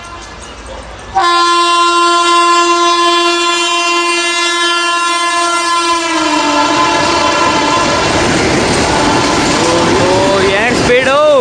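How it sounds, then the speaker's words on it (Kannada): Vande Bharat Express sounding a long, loud, steady horn as it races past a station platform, followed by the roar of the speeding coaches rushing close by. "ಈಗ ಬರಲಿದೆ ನಿಮ್ಮ ಮುಂದೆ ವಂದೇ ಭಾರತ್ ಎಕ್ಸ್ಪ್ರೆಸ್ ಓವರ್ಟೇಕ್ ಬಂದು ತೋರಿಸೋಣ"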